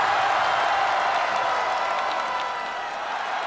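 Spectators at a basketball game applaud and cheer for both teams, a sustained crowd roar of clapping that eases slightly toward the end.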